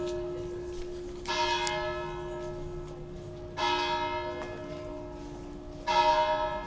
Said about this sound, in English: Bells are ringing.